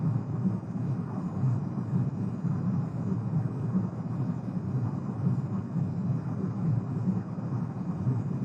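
An F/A-26B jet in VTOL VR taxis along a runway with a steady, low engine rumble and whine that holds at a constant level throughout.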